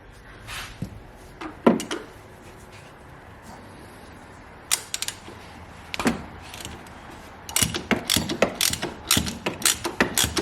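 Ratchet with a socket loosening a bolt during a service on a Ford Ranger, heard as bursts of rapid clicking pawl strokes, sparse at first and then quicker and denser near the end, close and fairly crisp.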